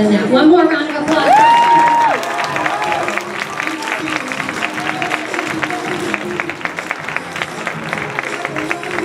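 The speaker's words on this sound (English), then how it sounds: "One more round of applause." An audience of parents and students at a school assembly for student-of-the-month awards claps steadily, the applause running throughout with a brief whistle-like tone early and scattered crowd noise mixed in.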